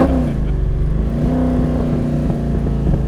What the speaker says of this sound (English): Oh, that nice little burble on the downshift.